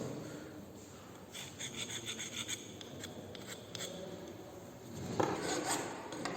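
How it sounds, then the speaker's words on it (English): A fine file deburrs a metal workpiece in a fitting shop, giving soft, repeated rasping strokes at moderate distance that grow louder toward the end. "Now he is deburring all over with the help of fine file"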